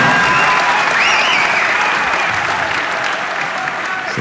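A crowd at an MMA event in Düsseldorf applauds and cheers loudly and continuously, with a dense wash of clapping and a few shouts rising above it.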